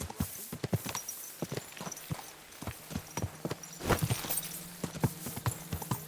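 Horse hooves clip-clop steadily on ground in Kingdom Come: Deliverance II, a clear, close rhythm of irregular hoofbeats with a low steady hum beneath and no talking.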